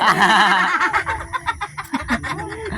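A chicken clucks loudly and close by in a rapid, choppy series of squawking clucks at an indoor Christmas party.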